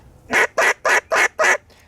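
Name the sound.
duck call blown to imitate duck quacks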